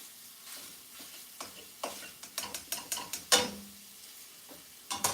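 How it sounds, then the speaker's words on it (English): Sausage browns in a frying pan with a soft sizzle and a run of quick spatula scrapes and taps, fairly quiet and close. "So I'm just gonna brown up some sausage."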